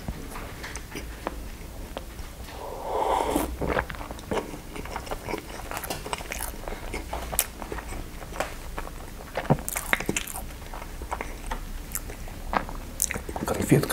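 Someone bites and chews a filled Milka milk chocolate candy up close, with soft crunches and irregular clicky mouth sounds over several seconds and a brief muffled rustle partway through.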